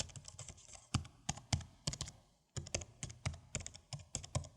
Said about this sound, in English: the Logitech sits on the opposite end of the spectrum, utilizing low-profile scissor switches for a muted laptop-style tap that favors stealth over rhythmic feedback